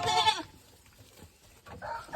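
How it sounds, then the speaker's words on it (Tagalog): Goats on a farm, including a big buck, with a couple of short bleats at the start and end of a quiet stretch of farmyard ambience. "At ito yung mga kambing ni Richard so far"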